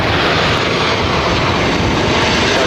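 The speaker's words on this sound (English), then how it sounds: "Delta A350 started taxiing and then stopped once again." A Delta A350 jet airliner taxiing at LAX airport, its engines producing a loud, steady, broadband roar that stays constant and close throughout, with no voices.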